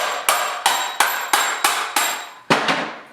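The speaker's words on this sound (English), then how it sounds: "Amazing what you can do with a hammer and a vise" A hammer strikes a car body panel held in a vise during rust repair on a 1939 Chevy two-door, seven sharp metallic blows at a steady rhythm, close and loud with ringing decay.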